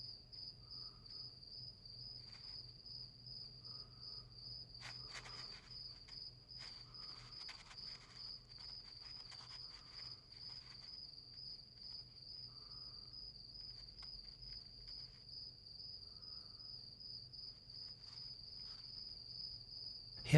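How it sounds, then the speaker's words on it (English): A cricket chirps steadily, a continuous high trill that runs the whole time, near and fairly faint against a quiet background with soft low rumble and occasional small rustles; no voices. "Here's something unarmed, a cricket."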